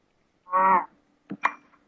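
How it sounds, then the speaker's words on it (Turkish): Minecraft cows mooing, one clear drawn-out moo followed by a shorter second animal call, loud and close with no talk. "Burada çok fazla inek var be."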